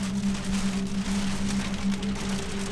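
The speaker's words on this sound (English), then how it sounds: "and now the hailstorm started." Hail falling in a winter storm near the Reinebringen mountain in Norway, heard from beside a parked car, a steady dense patter of pellets striking surfaces with a low hum underneath.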